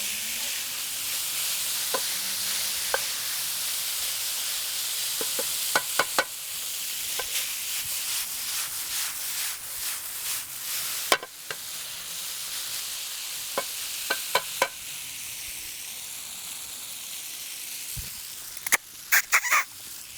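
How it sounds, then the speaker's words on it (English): Japchae glass noodles fry in a hot pan, a steady bright sizzle running the whole time, punctuated by sharp clicks and scrapes of stirring, close and without talk. "you can hear it's gone from quite a violent fry to slowly sizzling away"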